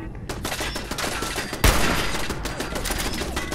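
Rapid gunfire in Fallout 4 at the Corvega Assembly Plant: a dense stream of quick shots with one heavier, louder blast midway, continuing without pause to the end.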